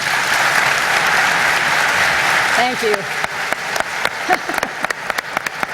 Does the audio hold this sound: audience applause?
yes